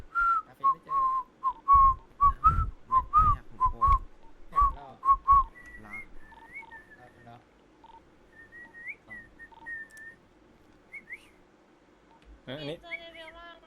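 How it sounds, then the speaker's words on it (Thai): A man whistles a short tune in a casual Thai stream chat, thin melodic lines after a burst of lively talk, with a few bright squeaky tones near the end; voices speak before and around the whistling. "ผิวปากทำไมครับ"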